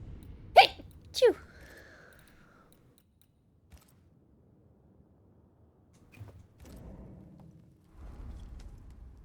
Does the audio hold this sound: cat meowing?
no